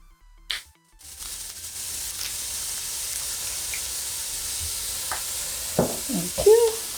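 Garlic going into a hot pan for Nigerian yam porridge gives a soft, steady sizzle and hiss under the stirring, with a few clinks and scrapes of a utensil near the end.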